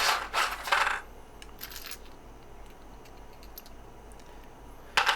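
Metal rifle cartridges being placed into an ammo pack: a few bright clinking taps and short metallic rattles near the start, then quiet with scattered small clicks and a final clink at the end.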